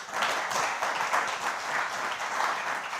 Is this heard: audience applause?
yes